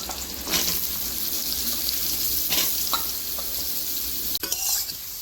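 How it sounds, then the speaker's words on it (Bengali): Radish pieces frying in oil left over from frying small fish, with a steady, close sizzle broken by occasional stirring scrapes and a brief utensil clatter. "এই মাছের তেলে আমি মুলোগুলোকে ভেজে নেব"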